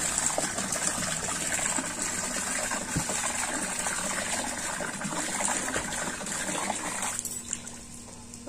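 Water gushing steadily from a motor pump into a container being filled for washing clothes, a loud continuous rush close by that eases slightly near the end, with no talking.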